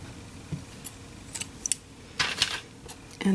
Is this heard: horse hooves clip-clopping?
no